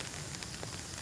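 Rain pouring over a pineapple farm, an even wash of hiss with a few soft drop taps, steady and fairly faint, with no one talking.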